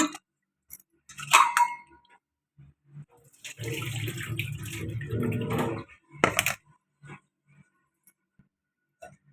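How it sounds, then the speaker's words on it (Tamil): Water pours steadily for a couple of seconds to rinse rice, with brief splashes and clinks before and after, close by and otherwise quiet. "நல்ல தண்ணி ஒரு வாட்டி ஊற்றி கழுவிக்கலாம்"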